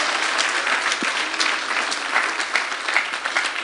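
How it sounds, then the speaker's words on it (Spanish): A church congregation applauds during a sermon for young people, a steady wash of many hands clapping at moderate loudness for several seconds with no talk over it. "Déselo a Jesús ese aplauso."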